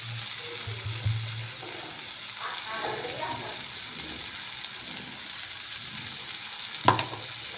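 Pounded spice powder being stirred into a cooked-down tomato mixture in a pan for puffed rice chitrannam, a steady low sizzle with soft scraping throughout and one sharp clink near the end.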